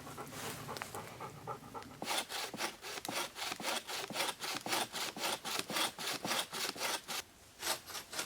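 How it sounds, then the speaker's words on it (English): A homemade bow saw cutting firewood outdoors, with a quiet start followed by a fast, regular rhythm of about a dozen and a half rasping push-and-pull strokes, close and fairly loud, with no talking. "So I'm gonna use this now to cut down the firewood a little bit here."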